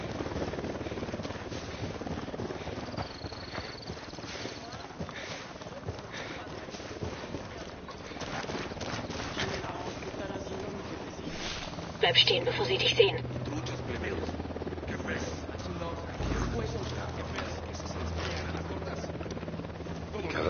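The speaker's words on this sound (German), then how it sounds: "Heli im Anflug." Helicopter approaching in the German-dubbed shooter Ghost Recon Wildlands, a low steady rotor drone running under in-game radio chatter and other game effects, with a louder burst partway through.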